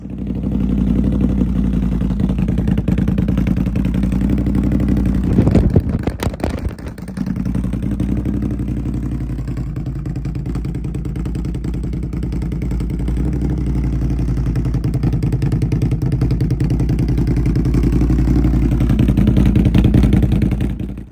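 A loud 2022 Can-Am Outlander 850 ATV exhaust rumbles up close for about twenty seconds, a deep steady idle broken by a brief rev and clatter partway through.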